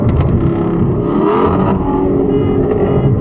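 A 2019 Ford Mustang GT accelerates hard on a freeway with a loud, close, continuous engine roar that holds steady throughout.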